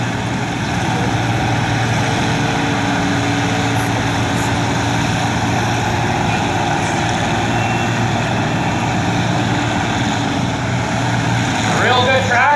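A pulling tractor with a Perkins engine drones steadily at close range at a tractor pull, its low rumble continuous throughout, with a brief change in pitch near the end as it shifts gears.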